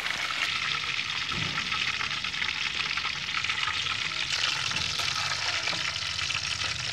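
Pieces of fish fry in hot ghee, giving a steady dense sizzle and crackle that carries on unbroken throughout, close and fairly loud, with no talking.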